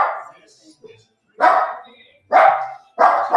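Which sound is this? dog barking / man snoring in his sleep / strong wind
dog barking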